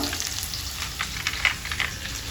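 Onions and cashews fry in a hot pan for a green chilli pulao, giving a steady close sizzle with soft crackles and occasional stirring scrapes throughout.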